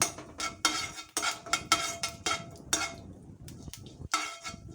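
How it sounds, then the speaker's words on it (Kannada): A spatula stirs and scrapes cumin, black pepper and urad dal roasting in ghee in a metal pan, giving repeated close clinks and scrapes in an irregular rhythm, with only a faint sizzle beneath. "ಇದಕ್ಕೆ ಜೀರಿಗೆ ಮತ್ತು ಕಾಳುಮೆಣಸು ಹಾಕಿ ಹುರ್ಕೊಳ್ತೀನಿ."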